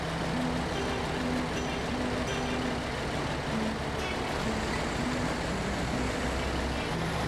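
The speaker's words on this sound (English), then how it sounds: "I seriously love this truck though." Heavy truck engine driving in SnowRunner on frozen roads while hauling an oil delivery, a steady loud rumbling drone with shifting low tones running continuously throughout.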